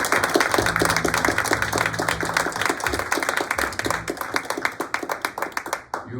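Congregation in a church service clapping for the musicians, dense rapid applause that carries on steadily and thins into scattered claps near the end, with no talking over it.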